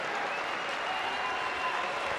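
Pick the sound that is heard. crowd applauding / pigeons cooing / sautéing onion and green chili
crowd applauding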